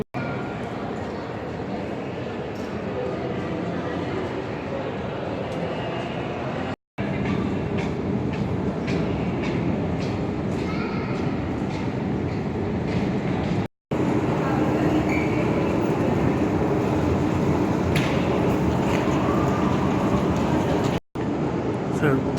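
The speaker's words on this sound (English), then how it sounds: "Let's take the train." A train in the deep underground Jerusalem Central Station rumbles on in a loud, steady roar with faint rattles and squeals. Voices murmur under the noise, and the sound breaks off briefly a few times.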